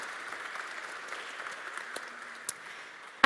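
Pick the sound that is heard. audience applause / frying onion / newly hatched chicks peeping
audience applause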